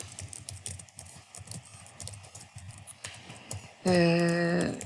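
Typing on a computer keyboard while adding text to a document, a steady run of soft, close key clicks with faint background noise, ending in a brief loud tone.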